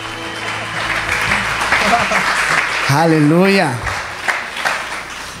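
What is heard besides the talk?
church congregation applauding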